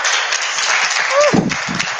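An audience claps and applauds in a brief, steady burst, with a voice cutting through partway.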